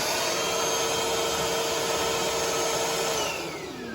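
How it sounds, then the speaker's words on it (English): A Milwaukee M18 cordless 2-gallon shop vacuum running continuously with a steady high-pitched whine and airy rush, close and loud, the motor pitch dipping slightly as it winds down at the end. "this is a great little shop vac"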